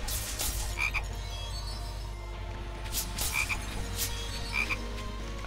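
Frogs croaking in the Touhou Youyou Kengeki Musou game, repeated pairs of short croaks recurring every second or two over a steady low hum and soft game music, with no talking.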